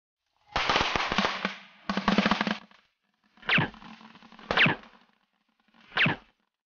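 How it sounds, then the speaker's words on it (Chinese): Fireworks set off in an action film: a dense, rapid string of crackling pops in two bursts, then three separate, sharp, loud bangs with short silences between them. "给他们点烟火，把他们赶进来。"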